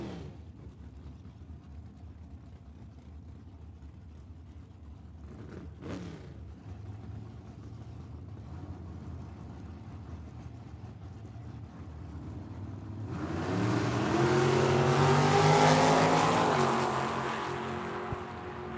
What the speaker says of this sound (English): Doing a nice burnout out of Mexico in the Monte Carlo